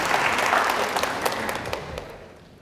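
Audience at a tech summit talk bursts into steady applause, dense clapping that holds for a couple of seconds then tapers off toward the end.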